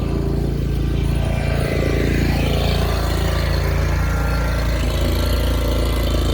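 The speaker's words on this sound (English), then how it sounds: "you can hear a tractor running because they're in the back" A tractor runs somewhere behind a storage area where classic Porsche customer cars are being tucked away for winter, giving a steady low engine drone with a constant rumble throughout, moderately distant and unbroken by talk.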